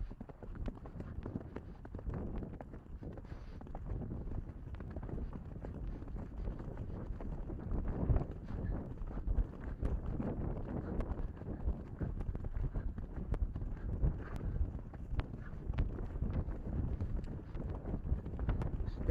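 Horse hooves cantering outdoors, likely a Friesian or Arabian, giving a steady rhythmic drumming of footfalls against low wind rumble across the whole stretch, fairly faint and distant.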